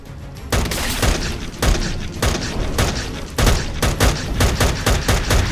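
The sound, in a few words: gunfire in modded Minecraft video game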